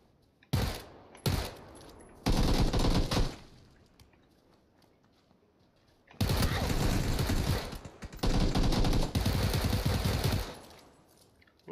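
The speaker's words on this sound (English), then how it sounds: "I hear shots and I'm going to investigate" Gunfire in a survival video game: several loud bursts of rapid shots, some short and isolated, others long sustained volleys, separated by quiet gaps with faint ambience.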